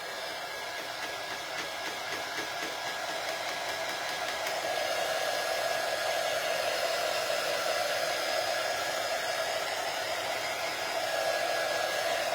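A hair dryer runs steadily on chalk paint, a continuous loud whooshing drone that holds level throughout and swells slightly louder midway, with no talking.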